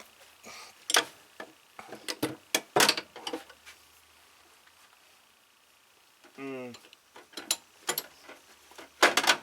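Ratchet wrench clicking as it is worked forward and reverse, sharp close clicks in short uneven bursts separated by pauses, with a quick rattling run of clicks midway; someone talks briefly at points.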